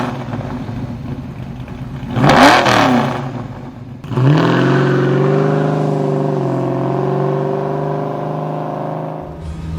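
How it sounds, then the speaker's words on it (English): A 1972 Dodge Challenger breathing through a Flowmaster Super Pro Series Delta Flow muffler: a loud close rev surges and falls, then the engine settles into a deep, bassy rumble that holds steady for several seconds. "You'll get a rumble with more bass tone than the 50 Series Delta Flow"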